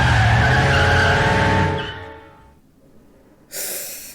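Car tires skid loudly in a tense TV drama scene just before a collision, a harsh sustained screech with low engine rumble that fades out, followed by a sudden burst of noise at the end.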